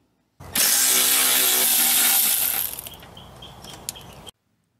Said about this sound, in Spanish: ahora voy a remover este tornillo número 10 aquí también con este cubo corto